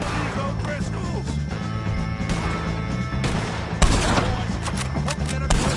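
Gunfire crackles through a Red Dead Redemption 2 shootout against the O'Driscoll gang, overlapping shots and volleys popping continuously at mid distance, with a sharper blast near the end.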